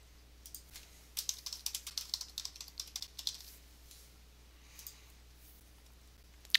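Typing on a computer keyboard while entering invoice details: a quiet run of quick, uneven key clicks, then a short pause and a few more taps, ending with a single sharper click, with no talk.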